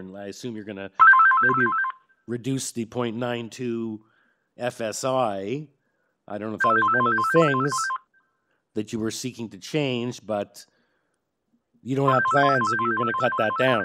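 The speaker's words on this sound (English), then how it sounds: "Whose phone is going off?" Mobile phone ringtone sounding during a public committee hearing, a repeated beeping tone in short bursts that cuts in and out under steady, close talk from a participant.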